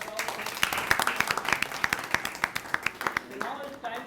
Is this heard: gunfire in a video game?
no